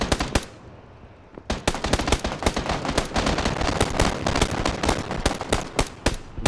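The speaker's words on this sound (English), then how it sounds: "Shots fired." Rapid bursts of automatic gunfire in PUBG during a solo tournament, loud dense volleys of shots crackling almost continuously, with a brief lull near the start before the firing resumes hard.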